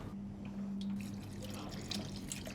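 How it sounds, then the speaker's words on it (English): Water is poured into a pot of bolognese sauce, a soft continuous splashing and trickling over a steady low hum, moderately close and fairly quiet, with no talking. "I'm just gonna add 2 cups of water to this."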